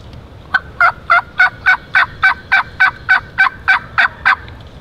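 A wild turkey gobbles during a spring hunt in the woods, a loud, clear run of about thirteen evenly spaced rapid gobbling bursts with nothing else over it.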